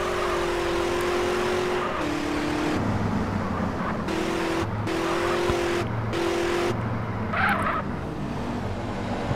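A loud motorbike in Grand Theft Auto: San Andreas roars continuously, its engine note stepping up and down through repeated throttle and gear changes over about nine seconds, with no talking.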